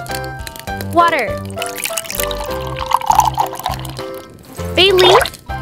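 Water poured into a pot while cooking a miniature Portuguese octopus salad, a steady pour heard under a speaking voice and light music.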